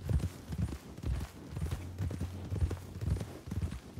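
Horse hooves clip-clop in the video game RedM, with a quiet, uneven run of low thuds over a faint steady hum.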